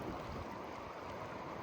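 Turbulent, churning water of the Ukhta river during a rafting trip: a constant broad rushing roar with no distinct splashes, steady and close throughout without any voices.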